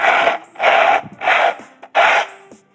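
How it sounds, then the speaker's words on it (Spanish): Four rough, scratchy drags in a slow rhythm, like slippers scuffing across the floor as someone shuffles, sounding like sandpaper, loud and close with short pauses between. "camina arrastrando los pies y se escucha como un par de lijas"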